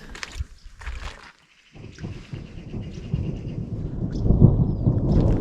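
Thunder rumbles during a rainstorm at a house construction site where roof work is underway, a low, broad roll that fades briefly, then builds louder and steadier toward the end with rain noise throughout.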